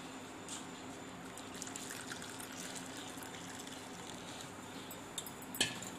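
Hot karupatti palm jaggery coffee is poured, a soft continuous liquid trickle and splash running steadily at low level, with a brief sharper clink near the end.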